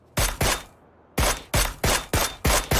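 Video game gunfire, two close sharp shots followed after a pause by a steady series of five more evenly spaced loud reports, with no talking.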